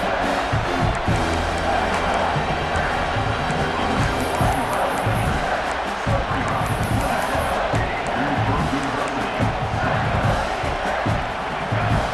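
Stadium crowd in EA Sports College Football 26 roaring in a dense, continuous wall of cheering and yelling as the defense holds in the red zone, loud and sustained, with a commentator's voice mixed in.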